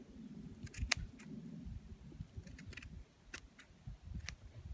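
Scissors snip around the edge of a burlap rosette in a quiet room, giving a few faint, close clicks and crisp cuts at irregular intervals.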